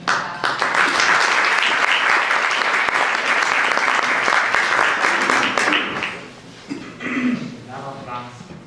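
An audience at an honor day ceremony claps loudly and steadily for new members, a dense wash of applause that fades out near the end, with a voice speaking as it dies down.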